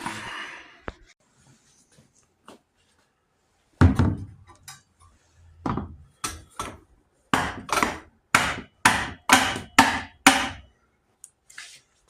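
A hammer strikes parts of a 17.5 hp Briggs & Stratton engine with a stuck decompression, up close: a few scattered knocks, then a steady, rhythmic series of about eight sharp blows.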